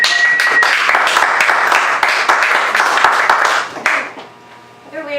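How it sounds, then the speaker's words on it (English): An audience at a poetry reading claps in a dense, close burst of applause that lasts about four seconds, then quickly dies away into quiet. "you don't have to clap every time if you don't want"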